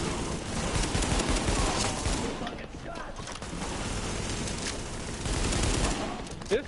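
Dense, continuous gunfire from a weapon in The Division beta, a rapid loud fusillade of shots running through the whole stretch with no clear pauses and the game's other noise mixed in.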